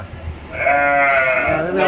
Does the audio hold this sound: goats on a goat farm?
yes